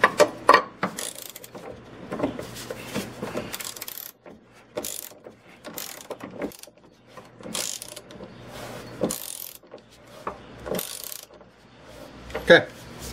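A ratchet tightening subframe collar bolts on a Genesis Coupe, clicking in short rapid bursts with pauses between strokes, close and fairly clear, with occasional metallic clinks and handling noise.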